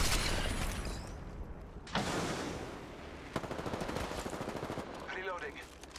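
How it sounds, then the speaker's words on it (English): Bursts of rapid automatic gunfire in Apex Legends, loud and close, with rattling volleys broken by short pauses and mechanical clicks. "We're getting shot at, yeah."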